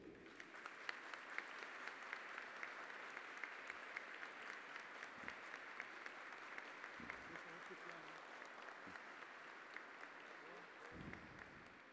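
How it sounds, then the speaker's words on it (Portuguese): Sustained applause from a crowd at a formal ceremony in a legislative chamber, dense and steady clapping throughout, heard at a moderate distance with a few low thumps underneath. "Uma salva de palmas para o nosso amado prefeito"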